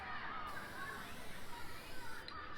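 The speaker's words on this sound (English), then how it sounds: "Then just a bit of spray paint." A spray paint can marks the ground while a garden room base is laid out outdoors, giving a steady, fairly close hiss that runs throughout with no pause.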